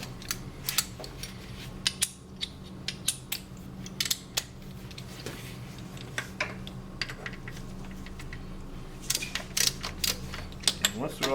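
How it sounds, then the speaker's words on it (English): A ratchet loosens engine mount bolts on a car, sharp clicking bursts in irregular clusters, close and fairly faint, with low background hum between strokes. "Once it's cracked loose, you just take these 4 mount bolts out like so."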